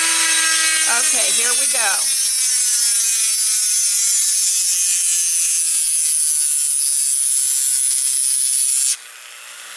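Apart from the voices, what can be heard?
drill drilling glass for doll eyes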